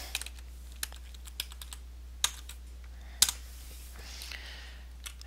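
Sparse computer keyboard keystrokes, a few isolated sharp clicks spread over several seconds with pauses between them, close and fairly quiet over a steady low hum, no talking.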